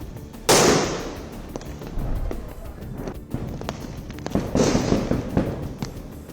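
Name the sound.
Diwali fireworks, rockets and fountains exploding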